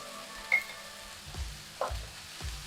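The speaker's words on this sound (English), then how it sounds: "we're gonna add that into the carrots and onions and celery that have been sauteing" Carrots, onions, celery and oregano sauteing in a pan, a faint low sizzle with a few soft stirring scrapes and knocks spaced apart, no talk.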